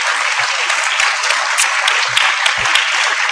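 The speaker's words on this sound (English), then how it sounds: "Join me with a very big clap for Howard University." Audience applause for Howard University at a 2013 international HIV/AIDS conference plenary session, a dense, steady burst of many hands clapping that fills the short stretch without any talk.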